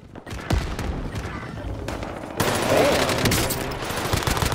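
Dense automatic gunfire from a Call of Duty Warzone match, sustained bursts that swell louder and fuller halfway through, with a voice briefly audible under the shooting.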